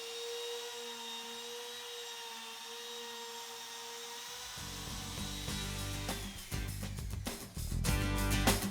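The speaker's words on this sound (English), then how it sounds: "move the router in a counterclockwise direction around the top to trim away all the excess laminate" A router hums steadily at first, then bites into excess plastic laminate on a plywood router tabletop with a loud, harsh, continuous whine and rasp that keeps building toward the end.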